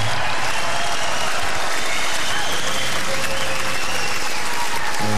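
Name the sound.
audience clapping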